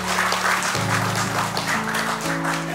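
Audience applause at a religious gathering, broad steady clapping from a crowd heard over a sustained low musical tone that shifts pitch partway through, with faint voices mixed in.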